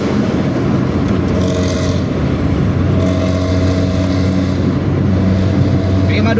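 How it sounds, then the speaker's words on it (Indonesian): A Pantura intercity bus's exhaust gives a deep, continuous snoring roar while it drives, a steady loud low rumble that holds for the whole stretch with no talk. "Raungan knalpot ngorok."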